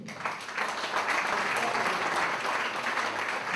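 An audience at a lecture on the 1915–1918 war applauds steadily, a dense wash of many hands clapping at a constant level for a few seconds, with no speech over it.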